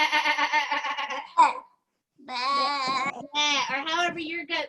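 A person imitates a goat's bleat during a children's yoga session, giving two long wavering, bleating calls split by a short gap and a brief breathy squeal in between, close and fairly loud.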